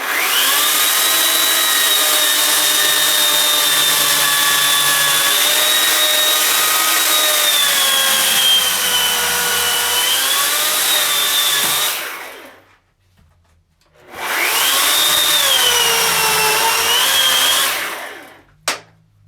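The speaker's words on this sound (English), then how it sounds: "so that I can cut it out of my bandsaw" A bandsaw cuts a wooden bowl blank with a loud, steady whining drone whose pitch sags and recovers under load. It stops abruptly for a moment, runs again, then shuts off with a short knock.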